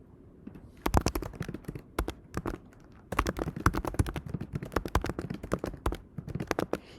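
Fingers type on a computer keyboard in quick bursts of crisp, close clicks, broken by short pauses.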